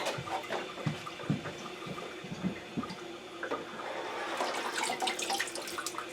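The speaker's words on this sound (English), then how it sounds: "we do indeed have a filling, very slow flow" A water softener slowly filling, with a steady faint trickle and rush of water and some light clunks early on, quiet and continuous throughout.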